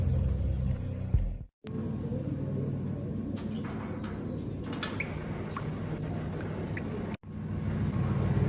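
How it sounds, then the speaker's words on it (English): Old service elevator in the video game Max Payne, descending with a steady low rumble and mechanical creaks, cut by two brief silent gaps, no voices over it. "The old service elevator rumbled down to the bowels of Jack Lupino's hotel."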